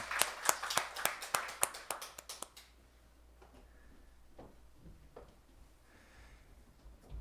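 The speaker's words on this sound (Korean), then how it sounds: "우리 하나님께 영광의 박수 올려드립시다." A church congregation claps during Sunday morning worship: about a dozen sharp, evenly spaced claps ring out for two and a half seconds, then fade into a quiet room with a few scattered taps.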